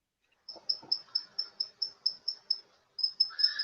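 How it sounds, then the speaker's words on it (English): Crickets living in a bedroom chirp in a steady run of about a dozen evenly spaced, high, clear pulses, pausing briefly before a louder, denser burst at the end; a couple of soft low knocks sound early on. "I've lived with the crickets in my bedroom for almost half my life"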